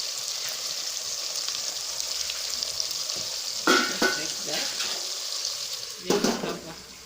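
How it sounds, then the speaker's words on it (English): Tomatoes are poured into a pan to fry for a matoke sauce with garden eggs, giving a continuous close sizzle with two bursts of louder splashing and crackling as the food hits the hot oil. "here I'm going to pour in the tomatoes just like that."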